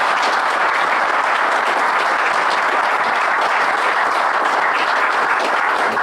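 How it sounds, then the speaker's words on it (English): A seated audience gives a warm, steady round of applause for the star speaker at a Norton Owners Club talk, dense clapping filling the room evenly for several seconds with no pause. "I ask you for a warm round of applause for our star speaker, Mike Jackson."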